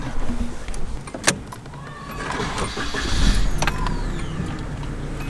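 Sounds inside a Toyota Starlet KP61: a door thud, an electric window whirring, then a low engine rumble rising as the car pulls away, with a faint voice.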